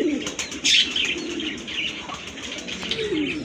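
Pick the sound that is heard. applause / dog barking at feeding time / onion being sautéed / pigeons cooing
pigeons cooing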